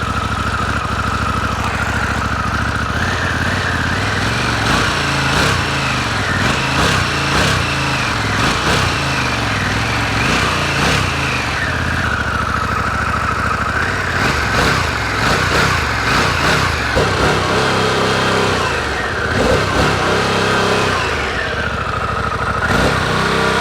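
A 2021 Harley-Davidson Pan America motorcycle engine runs loud and close, idling with a throbbing rumble and repeatedly revving up and dropping back, some revs hitting a soft limiter.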